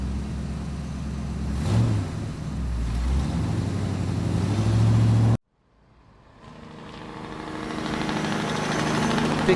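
A pickup truck engine idles steadily with a low rumble, broken by a sudden brief dropout before the idle returns and builds back up.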